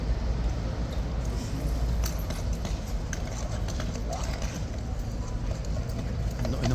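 A horse at a mounted sentry box shifts about restlessly, its hooves clip-clopping on hard ground in an uneven run of steps under steady outdoor noise.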